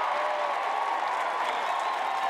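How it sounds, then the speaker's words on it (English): A golf crowd at the Solheim Cup roars and applauds, a broad sustained wash of cheering and clapping heard from a distance, steady from start to finish. "And the roars of the crowd told the story"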